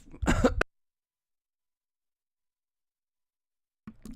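A single short, throaty cough-like burst, close and loud, followed by several seconds of silence before a faint sound begins at the end.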